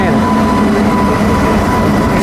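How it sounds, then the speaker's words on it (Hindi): A special passenger train hauled by a Howrah-based locomotive passes another train at a railway crossing, giving a loud, continuous rumble and rushing noise heard from on board. "आनंद विहार टर्मिनल की ओर जाने वाली स्पेशल हमारी ट्रेन की क्रॉसिंग हो रही है"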